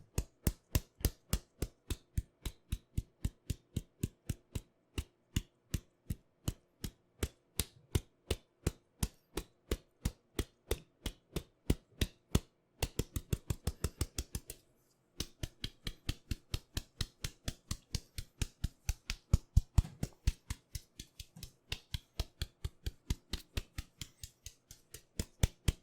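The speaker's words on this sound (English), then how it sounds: "What I'm doing is I'm loosening up the screws on each side." Screws on each side are loosened in a series of quiet, crisp clicks, evenly spaced at about two to three per second, with a brief pause midway.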